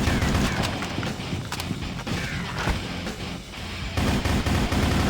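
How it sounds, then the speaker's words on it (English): Repeated gunfire in the Shadowgun shooter on Ouya, a run of sharp cracks and bursts over about five seconds, loud and close, with mechanical clatter between shots and no talking. "someone's shooting me over on that end"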